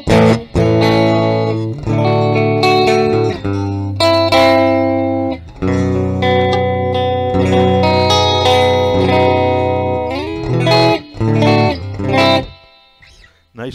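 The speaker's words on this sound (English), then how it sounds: "Nice lush reverb, and it's only on 3." An electric guitar plays through a Fender Blues Deville amp with lush reverb set fairly low, sounding loud and clean-toned. Chords and notes ring out and sustain, with short gaps between phrases and a reverb tail trailing off at the end.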